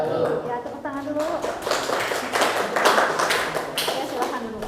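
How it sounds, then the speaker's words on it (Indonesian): A classroom group claps after a student presentation, a brief burst of scattered hand claps mixed with voices talking. "Ya, tepuk tangan dulu."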